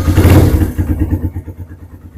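A rice-field motorcycle is cranked by its starter and catches, a brief loud burst settling into a fast, pulsing idle close by.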